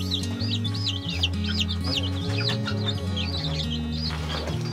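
Hens cluck low and steadily while chicks peep in rapid high chirps over them, all close and continuous.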